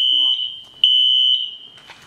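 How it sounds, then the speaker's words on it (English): An indoor fire alarm going off, a loud, piercing, steady electronic tone that cuts out briefly and restarts, then fades toward the end. "The fire alarm went off right as I was ending the video"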